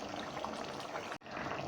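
Half a cup of lukewarm water poured into a pot of cooking potatoes and bell peppers, a steady close splashing trickle running for over a second before cutting off abruptly, then resuming briefly.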